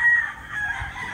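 A Gilmore cross rooster crows once, a loud, close, sustained cock-a-doodle-doo lasting about a second.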